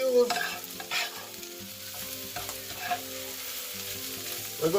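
Shrimp fried rice with egg being stirred in a hot pan, a steady sizzle with scraping spatula strokes throughout, close and clear, no voices.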